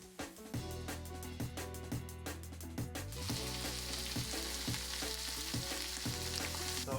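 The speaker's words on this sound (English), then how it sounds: "a high heat in the pan. We want a hard sear" Meat sears over high heat in a hot pan, giving a steady, close sizzle with a rhythmic backing running underneath.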